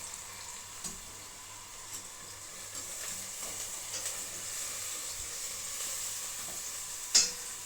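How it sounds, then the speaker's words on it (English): Chicken bones and spring onion simmer in a pot for broth, giving a soft continuous hiss and bubbling with a faint low hum underneath and one brief clink near the end. "I started to boil chicken bones and a little bit of spring onion, and so I can have the broth"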